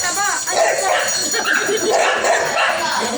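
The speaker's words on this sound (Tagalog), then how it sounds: "Ay, laki ng aso." A dog barks and yips amid lively voices, the barking close and mixed in with overlapping human talk throughout.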